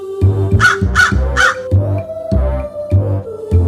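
A crow caws repeatedly, a run of loud, harsh calls close by in a steady rhythm with no other sounds.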